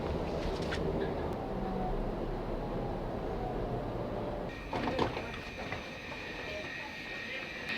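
A regional train stands at a station platform as passengers get off, a steady rumble of engine and platform noise filling the scene with a brief clatter and door sounds midway, no voices standing out.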